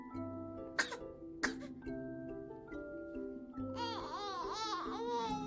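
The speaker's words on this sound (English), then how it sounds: "she does a fake cough with her mother" Two short, sharp fake coughs from a baby, spaced about a second apart, followed by rising and falling babyish vocal sounds over a steady background hum.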